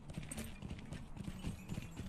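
Horse hooves clip-clop in a steady rhythmic gait while riding in the Lord of the Rings Online fantasy game, with a continuous bed of ambient game sound beneath the hoofbeats.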